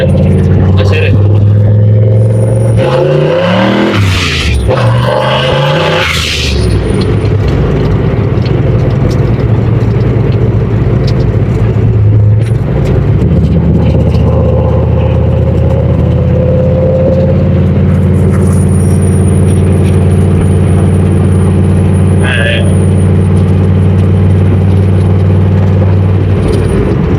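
Ford Foxbody with a turbocharged 351W V8 revs and launches on cold Nitto tires, a loud deep engine roar rising in pitch through several surges, then settling into a low rumbling drone, with a voice speaking over it.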